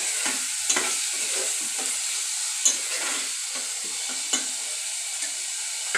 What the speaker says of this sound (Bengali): এখন এতে একটু গুঁড়া হলুদ পরিমাণ মতো, একটু লবণ পরিমাণ মতো দিয়ে একটু নাড়াচাড়া করব।